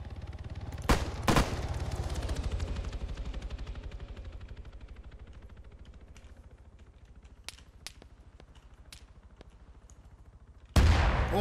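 Gunfire in Arma 3 during a central bank robbery with a helicopter flying in, two sharp shots up front, then scattered distant cracks over a fading rumble, then a sudden loud blast at the end.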